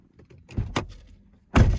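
A 2021 Chevrolet Silverado Custom Trail Boss truck door unlatches with a click and swings open, then a louder thunk follows, close and distinct with no speech over it.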